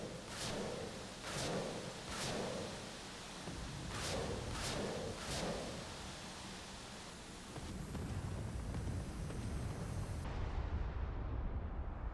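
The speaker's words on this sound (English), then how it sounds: "press the stick's weapon release button to fire rockets. Each press fires a single rocket." Single rockets fired from a Pucara attack aircraft in a South Atlantic flight simulator training mission. About six loud, separate launch blasts come in irregular pairs over a steady roaring engine drone that swells and continues alone afterward.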